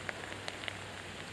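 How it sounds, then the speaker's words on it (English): Steady rain falling on surfaces outdoors during a fishing trip, a soft continuous patter with scattered sharper drops ticking close by, no talking. "It's still raining."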